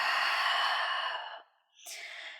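A long, steady breath exhaled through the nose and mouth during a yoga flow, then a brief pause and a second, softer breath. Both are close and clear, with no talking.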